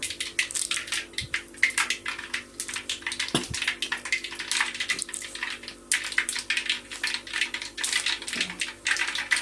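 Mustard seeds and curry leaves crackling in hot oil for batata poha tempering, a dense, rapid scatter of sharp pops and spits with a few heavier knocks, close and continuous, no voices.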